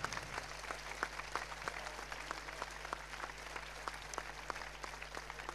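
Audience applause at the Festival Veneto 2012 song contest for a winning singer: a steady, fairly distant wash of clapping with crisp individual claps poking through, holding evenly without voices.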